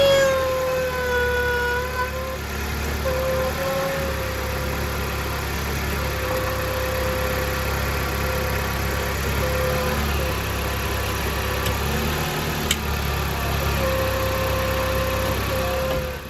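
A Dodge Caliber engine runs steadily while shifting through its CVT gears, a continuous close mechanical hum and whine with a few shifts in pitch, no talking.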